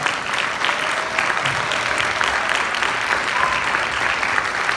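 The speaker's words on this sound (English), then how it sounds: "let's give them a round of applause" Steady applause from a crowd at a high school marching band concert, dense clapping that holds evenly throughout without pause.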